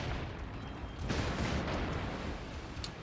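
Naval turret guns fire in the World of Warships naval combat game as a loud, rumbling barrage with a heavier burst partway through, set against a steady roar of battle noise.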